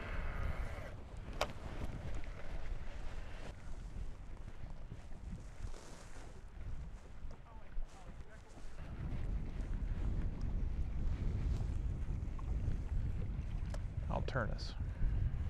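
Strong wind buffets the microphone on a fishing boat out on open water, a steady loud rumble throughout, and someone speaks briefly under it.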